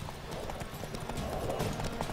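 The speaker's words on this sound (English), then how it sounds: "I stole a horse, and it's mine." Stolen horse gallops in the video game The Witcher 3, rapid rhythmic hoofbeats clip-clopping steadily and fairly close for a couple of seconds.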